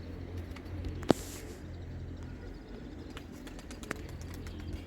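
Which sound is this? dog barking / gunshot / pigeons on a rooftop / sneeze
pigeons on a rooftop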